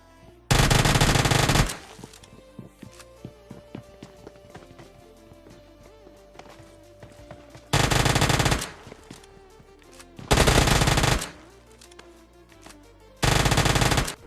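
Uzi fire in the PUBG battle royale game comes in four loud, rapid bursts of roughly a second each, separated by quieter stretches of footsteps and movement.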